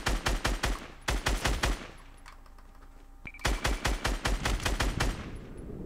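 Automatic gunfire in a Fortnite duo battle royale match: two loud rapid bursts of evenly spaced shots, one before and one after a short lull, close and unmasked by speech.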